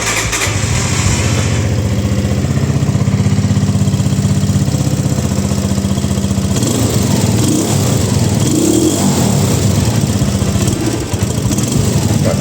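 Cold small engine fitted with a homemade exhaust, running close and loud with a steady, raspy putter throughout, its tone roughening slightly partway through.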